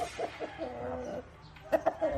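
A Thai fighting cock, recovering on a farm after a bout, gives a few short clucking and cooing calls, moderately close, with a couple of sharper notes near the end.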